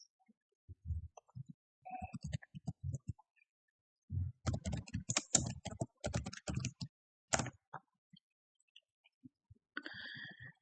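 Someone types on a computer keyboard in a quiet room, producing bursts of close clicky keystrokes in irregular rhythm, a dense flurry in the middle and sparser taps at the start and end.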